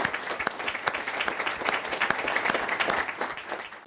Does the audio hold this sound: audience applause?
yes